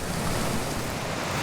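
A mountain creek flowing at a fishing spot, a steady broadband rush of water filling the whole moment, fairly soft and continuous, with no voices.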